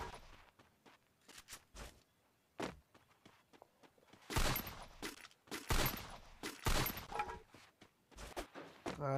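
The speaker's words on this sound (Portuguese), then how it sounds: "Vou dar um tiro pro alto aqui, ó." Irregular bursts of sharp gunfire-like bangs from the video game Free Fire, some isolated and some in quick clusters, growing louder midway, with quieter thuds and clicks between.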